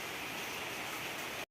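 Steady heavy rain falling outside in Tezpur, a dense even hiss that fills the short stretch before cutting off abruptly, with no talking.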